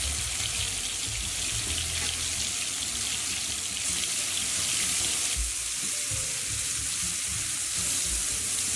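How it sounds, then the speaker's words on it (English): Turkish meatballs browning in a hot pan give off a steady, even sizzle and crackle of frying oil, moderately loud and continuous, with no voices over it. "So all we're doing at this point is browning our meatballs on all sides."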